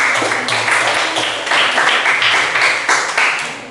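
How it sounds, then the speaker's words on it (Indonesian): Classroom audience claps steadily for a student group after their presentation, a loud, close burst of applause with uneven rhythm lasting several seconds and no talking over it. "Oke, tepuk tangan buat kelompok."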